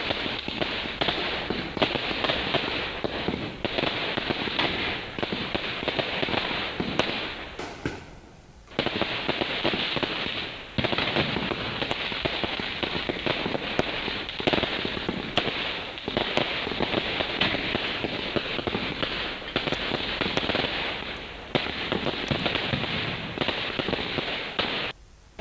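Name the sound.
firecrackers bursting at night on the road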